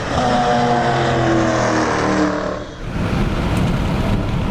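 A 2018 Dodge Challenger Hellcat Widebody with 700 horsepower on a track, a loud close engine roar that holds steady, dips briefly, then returns as rumbling road and engine noise.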